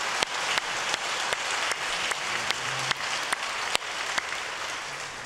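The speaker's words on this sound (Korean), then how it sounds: "감사의 마음을 담아서 또 박수 이번에 드리겠습니다" A church congregation gives a fairly brief round of applause, a dense patter of clapping with a few louder individual claps standing out, sustained and even throughout.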